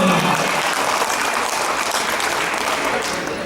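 An audience at the closing of a national coordination meeting breaks into dense, steady applause that fills the whole few seconds and fades slightly near the end.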